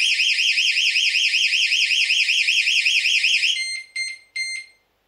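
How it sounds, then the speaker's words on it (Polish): A TECHNISMART home alarm system siren wails loudly in a steady rising-and-falling electronic tone, then cuts off and gives two short final bursts before falling silent. "i mamy uruchomiony alarm."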